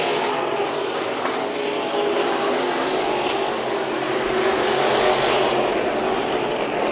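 Race cars roar together at Bakersfield Speedway during a heat race, a loud, continuous, dense engine drone that swells and fades slightly as the pack passes, with no voices over it.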